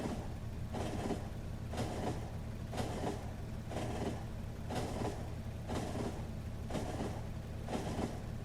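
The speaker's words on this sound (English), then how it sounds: "Looks like our train already came and went." A Factorio train rolls past in a steady rhythmic stream, regular bursts of rail clatter repeating about once a second over a continuous low rumble, sustained at an even level with no voices.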